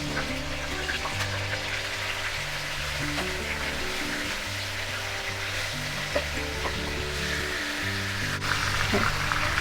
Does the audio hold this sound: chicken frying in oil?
yes